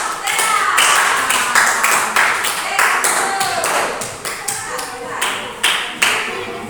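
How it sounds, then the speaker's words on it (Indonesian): A primary-school class claps for a group of students, uneven clapping with distinct sharp claps standing out and a voice talking over it. "tepuk tangan dulu untuk kelompok"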